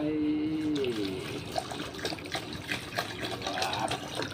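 Water pours onto sticky rice with a continuous splashing, gurgling flow. It sounds close and moderately loud.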